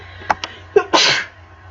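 A single sneeze from a person indoors: two small sharp intake breaths, then a sudden loud burst that trails off over about half a second, close and alone with no talk.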